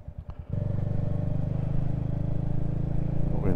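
Royal Enfield Hunter 350 with a 16-tooth sprocket upgrade pulling hard in first gear, a loud, steady single-cylinder engine drone rising after a brief idle burble at the start.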